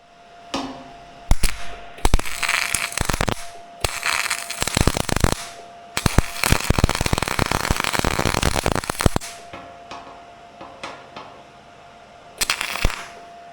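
A MIG welding gun welds steel on the flat deck of a 2006 Ford F-350 Super Duty, giving loud crackling, sputtering bursts of several seconds each, split by short pauses, close with no talk.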